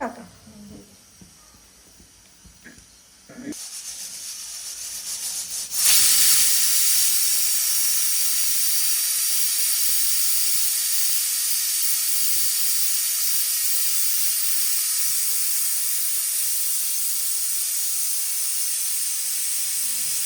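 A pressure cooker lets out a loud, steady hissing whistle of steam that starts abruptly and keeps blowing without a break, after some quieter kitchen noise.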